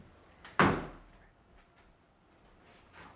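A door in a luxury riverfront condo closes with one sharp thud early on, followed by faint room noise and small handling sounds.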